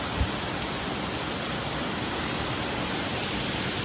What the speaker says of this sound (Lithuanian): A čia, kažin, matosi bent kad lyja